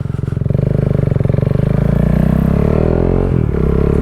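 A KTM 390 Duke single-cylinder motorcycle accelerates hard away from close by, its thumping engine note climbing steadily through the revs before a quick dip and pickup near the end, loud and alone without talk.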